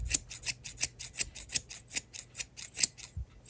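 Scissors snip repeatedly while trimming a yarn pom pom for a flower craft, a steady run of about a dozen crisp close cuts in quick even rhythm, with no voices.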